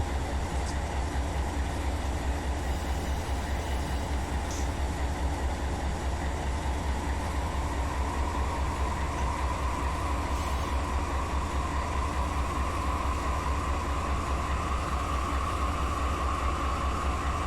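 A heavy 9,000-ton freight train rumbles steadily in the Run 8 Train Simulator game, with a constant low drone and a rising engine tone and no talking.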